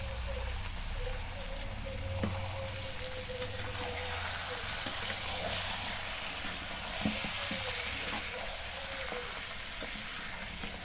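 Beef and onions fry in a pan with a steady, close sizzle and occasional stirring clinks, running continuously without pause.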